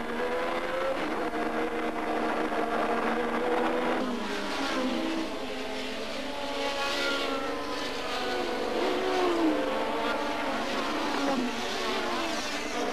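A 1987 Formula 1 car crawling around the circuit on a punctured rear left tyre gives a steady buzzing engine drone that rises and falls slightly and stays moderately loud and distant throughout, with no speech over it.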